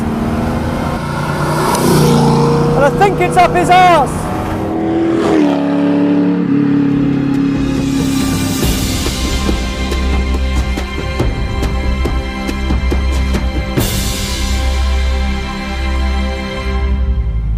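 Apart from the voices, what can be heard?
Ford GT40 engine roaring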